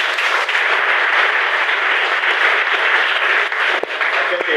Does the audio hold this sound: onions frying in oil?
no